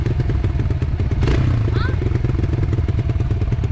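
Honda CRF 250 dirt bike running close by, a loud rapid pulsing engine putter with a brief rev and a clatter partway through, while people talk nearby.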